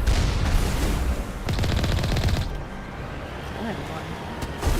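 Sustained heavy turret gunfire in the video game Mass Effect, a dense rapid burst that drops off midway, with a voice talking over parts of it.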